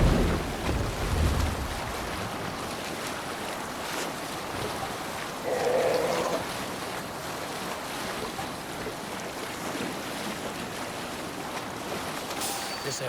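Viking longship under sail at sea in Assassin's Creed Valhalla, with a steady wash of waves and wind against the hull, a continuous moderate rush and one brief brighter swell midway.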